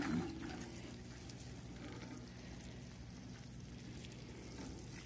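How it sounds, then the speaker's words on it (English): Water poured over carrot seeds just sprinkled onto garden soil, a steady close splashing and trickling that runs evenly throughout with no talk. "Then I'm just gonna water them in."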